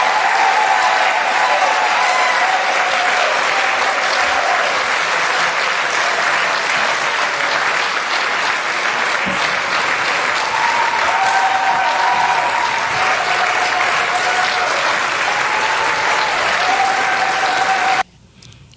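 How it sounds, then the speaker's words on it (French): Thunderous applause from a large crowd greeting a doctor introduced on stage, loud and sustained for about eighteen seconds with steady dense clapping and crowd noise, a faint tone line running through, then cutting off abruptly. "un tonnerre d'applaudissements pour le docteur Denis Mukwege"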